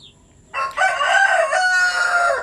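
A chicken crows once near an egg incubator and hatcher: a loud, drawn-out, raspy call that cuts in abruptly and runs for about two seconds over quiet background.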